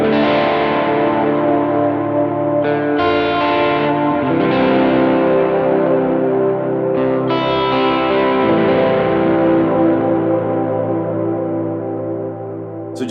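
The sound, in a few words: electric guitar swell with reverb and delay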